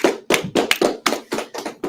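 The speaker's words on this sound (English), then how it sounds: "clap it up" Congregation clapping hands in unison during a Sabbath service, about eight sharp claps in a steady quick rhythm, close and loud with no talking.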